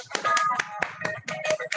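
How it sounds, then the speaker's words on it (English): A few separate, sharp claps or snaps ring out in an online meeting after a quiz, sparse and irregular, close to the microphone with silence between them. "A big round of applause for that awesome quiz."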